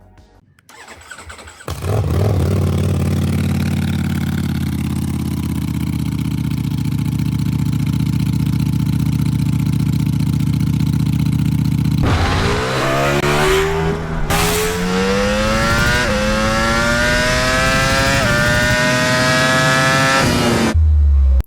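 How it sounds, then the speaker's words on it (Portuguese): A loud Ducati V4 Twin Pulse motorcycle engine idles with a deep, steady rumble, then revs hard several times, the pitch climbing and falling in sharp surges. "E agora, fiquem com o som desse motor."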